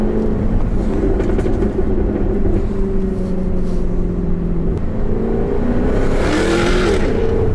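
Jaguar F-Type R coupé with its 551 PS engine revving loudly, a steady deep exhaust drone that climbs in pitch and surges harder near the end, close and unbroken throughout.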